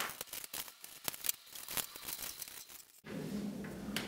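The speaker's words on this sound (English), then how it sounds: "So just cut on the thick black line." Scissors cut out paper trouser pattern pieces along a thick black line, giving quiet, close snips and paper rustles in irregular bursts for about three seconds, then a faint room hum.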